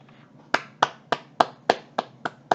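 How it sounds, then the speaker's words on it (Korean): A single pair of hands claps eight times in a steady, slightly uneven rhythm, each clap sharp, close and isolated against near silence. "박수."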